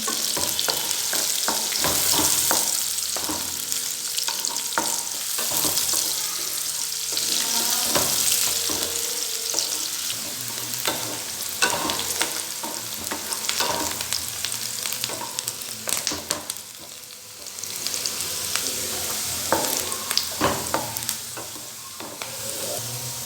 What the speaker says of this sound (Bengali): এতে একটা বড় সাইজের পেঁয়াজ আমি চপ করে রেখেছিলাম, এটা দিয়ে দিচ্ছি। এটা একটু লাল করে ভাজতে হবে।